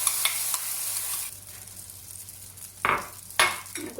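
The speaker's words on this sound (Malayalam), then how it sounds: "ഇതിലേക്ക് നമ്മുടെ മുട്ട ഇട്ട് കൊടുക്കാം. അത് മൊത്തം ഒഴിച്ചു കൊടുക്കുകയാണ്." Beaten egg going into a pan of sizzling potatoes for an omelette, a bright hiss that thins out partway, then two sharp utensil clatters near the end, close by with no voices.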